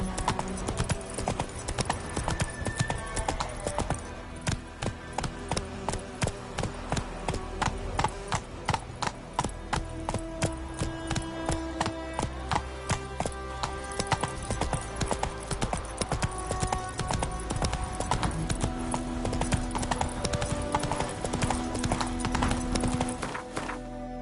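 Hooves of a horse galloping in the Witcher 3 video game, a fast, loud, continuous drumming clip-clop over music, with occasional whinnies mixed in.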